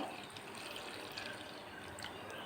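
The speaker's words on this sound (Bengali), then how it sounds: "এবার দিয়ে দেব পরিমাণ মতো জল।" Water poured into a cooking pan of salt and turmeric mixture, a faint continuous splashing gush heard close and steady, no talk.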